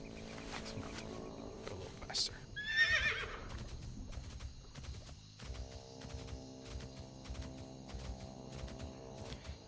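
A horse mount whinnies once in the video game Project Epoch, a short, shrill neigh rising over quiet game sounds and a soft, steady musical backdrop.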